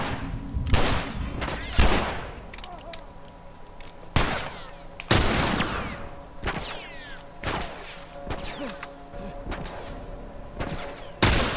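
Repeated bursts of gunfire ring out in The Last of Us Remastered on PS4, sharp broadband shots arriving in irregular clusters over about twelve seconds, some loud and close, with faint game ambience between volleys and no speech over them.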